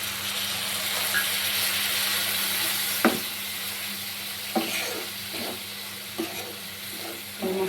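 Spice paste frying in a pan with a little water for egg curry, with a steady close sizzle and bubbling, broken by several sharp scrapes and knocks of a spoon stirring against the pan.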